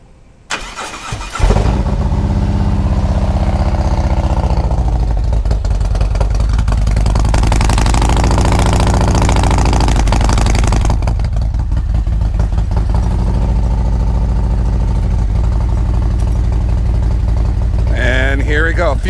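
A Ducati Scrambler Sport Pro 1100 fitted with a Termignoni exhaust cranks and fires up, then settles into a loud, deep, throbbing idle that stays close and steady for a long stretch.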